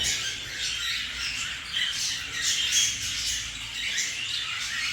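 Heavy pied cockatiels in an aviary flight squawk constantly, their shrill, overlapping calls forming a dense, unbroken chorus close by.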